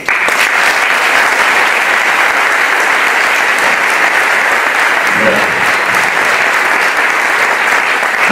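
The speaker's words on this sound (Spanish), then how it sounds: "el embajador Munker Saleh, para quien pido un aplauso." Audience applause for the Palestinian ambassador at a university solidarity event, a loud, close, continuous wall of clapping from a large crowd with a brief voice surfacing partway through.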